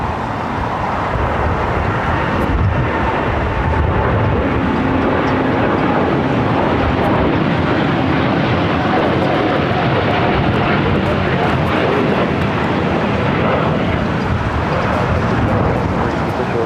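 A jet airliner roars past at Los Angeles International Airport, a loud, broad, steady engine rumble sustained throughout.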